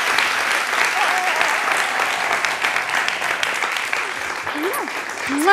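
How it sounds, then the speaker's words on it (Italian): Studio audience on an Italian TV show gives sustained, even applause, a dense continuous wash of many hands clapping, with a few voices and exclamations heard under it. "voi fate un applauso chiaramente"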